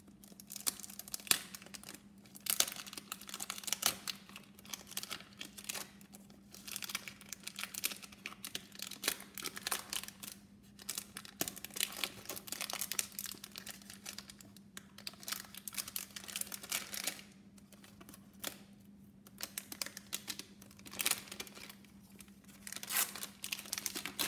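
Product packaging for a fragrance is unwrapped and crinkled close up, with irregular bursts of rustling, tearing and crackling over roughly twenty-five seconds and a faint steady hum underneath.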